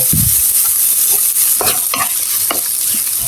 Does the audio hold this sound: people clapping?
no